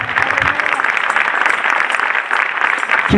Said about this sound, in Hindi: आपकी तालियां बताएंगी आप लोग कैसे हैं।